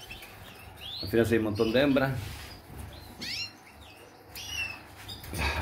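Birds in a breeding loft chirp and coo close by, with bursts of wing flapping and short tweets scattered through the moment while someone speaks quietly.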